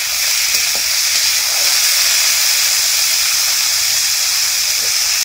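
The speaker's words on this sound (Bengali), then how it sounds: "তেল গরম হয়ে গেছে, এরপর আমি সবজিগুলো ভেজে নেব।" Potato, carrot and chopped green chilli frying in hot oil, a loud, steady sizzle and hiss, close up, with faint stirring.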